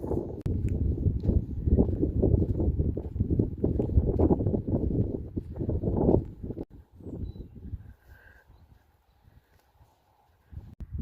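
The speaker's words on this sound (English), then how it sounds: "It's very windy out here. It's very, very windy." Strong wind buffets the microphone outdoors in a grassy spot, producing loud, rumbling low gusts that surge and then ease toward a quieter lull before picking up again.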